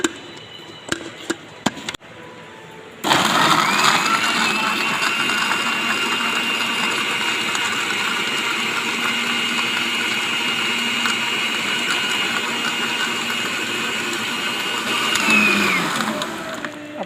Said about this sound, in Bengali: এখন আমরা ব্লেন্ডার করব।